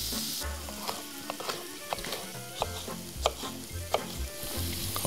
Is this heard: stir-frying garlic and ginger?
yes